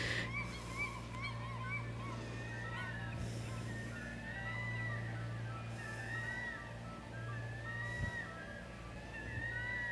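Seagulls call in the background, a few faint, high, wavering cries scattered over a low steady hum.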